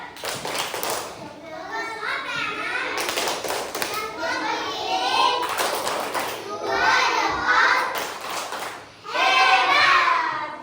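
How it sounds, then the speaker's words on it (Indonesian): Schoolchildren in a classroom perform the 'tepuk hebat' clapping routine, with a chorus of children's voices chanting over rhythmic hand claps that swell in bursts across the clip. "tepuk hebat"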